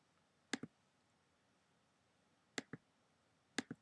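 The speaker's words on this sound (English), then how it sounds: "if you go on a person's name and you just right click" Computer mouse clicks on a Mac in iChat, three separate click pairs, each a quick press-and-release double tick, close and crisp over a quiet background.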